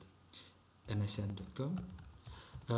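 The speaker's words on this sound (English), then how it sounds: "When you use a ping command, for example, you type ping www.msn.com" A ping command typed on a computer keyboard, a quick burst of close key clicks heard under someone talking.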